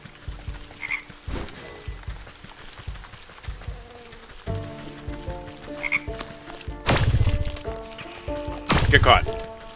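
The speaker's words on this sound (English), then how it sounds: "that sound actually reminded me of the frogs from Don't Starve" Frogs croak repeatedly in a video game scene, a rhythmic throaty chorus with a few louder bursts, while a person talks over it.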